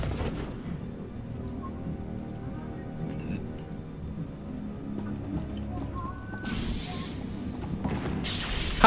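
Gunfire aimed at the player's Sith Inquisitor in Star Wars: The Old Republic comes as scattered shots and a couple of louder bursts over steady game ambience, with a voice talking.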